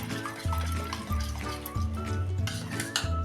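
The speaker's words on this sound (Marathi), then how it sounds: "आपण चांगलं गुठळ्या ह्या मधल्या कुठेपर्यंत चांगलं फेटून घेऊया" Yogurt being whisked in a bowl to break up lumps, a steady rhythmic stirring and clinking of a utensil against the dish, close, under a sustained musical tone.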